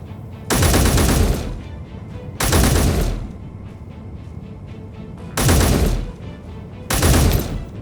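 Four loud bursts of automatic turret fire in a video game, each roughly half a second to a second long, separated by quieter gaps with faint background ambience.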